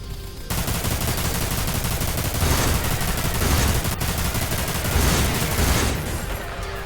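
Turret gunfire in Final Fantasy VII: Dirge of Cerberus, a loud continuous machine-gun stream that keeps rattling and swells in waves, with no voices over it.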